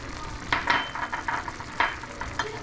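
Fish hits hot oil in a pan with bursts of loud, close sizzling that swell and fade in quick pulses over a constant frying hiss.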